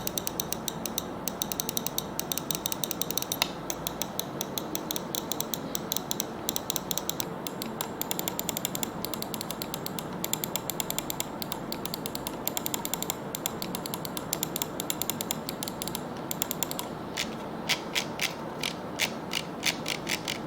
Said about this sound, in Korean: 마우스 휠을 굴렸을 때는 들어보셔서 알겠지만 좀 드륵드륵 이런 소리가 납니다.